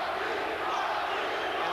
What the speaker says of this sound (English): some of this crowd picking up the chant for Iran Barkley